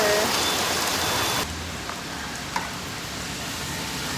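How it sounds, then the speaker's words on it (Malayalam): Heavy rain hisses steadily at Ilaveezhapoonchira, Kottayam, Kerala, loud at first, then drops to a softer but continuous downpour after a moment, with a small knock partway through. "പണിപാളി, നല്ല രീതിക്ക് മഴ പെയ്യുന്നുണ്ട്"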